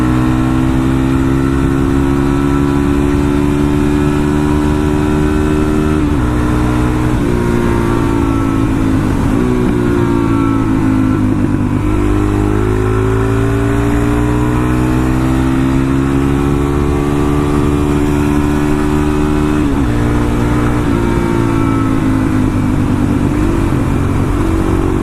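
A Suzuki DRZ400 motorcycle rides at speed through Aska, Georgia, its engine droning loud and constant with rising and falling pitch through gear changes and wind buffeting, close and continuous throughout.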